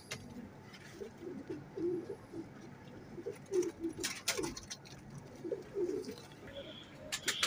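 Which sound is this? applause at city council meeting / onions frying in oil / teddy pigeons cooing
teddy pigeons cooing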